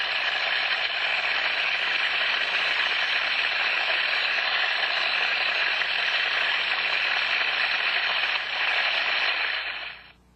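A fixed orifice steam trap functioning normally gives a loud, even, continuous hissing rush of flow that holds steady for about ten seconds before stopping.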